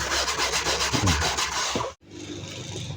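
Steady close-up scrubbing of a Suzuki Splash car interior surface, a brisk back-and-forth rubbing that stops briefly, then carries on.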